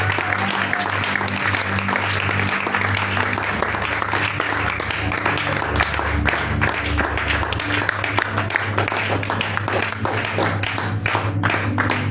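A church congregation applauds and acclaims the Lord in a steady, loud wash of clapping and voices, with music droning underneath throughout.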